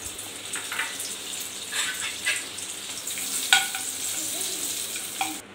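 Butter melting into hot oil in a pan for kadai paneer gives off a close, steady sizzling hiss, with a few sharper pops and a brief scrape near the end.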